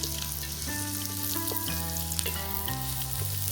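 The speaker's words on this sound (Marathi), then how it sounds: "आता ना आपल्याला कांदा हा छान असा खरपूस आहे ना तव्यावर भाजून घ्यायचा आहे।" Onion and coconut roast on a hot griddle over a wood-fired stove, crackling and sizzling steadily and close up. Sustained tonal music plays underneath.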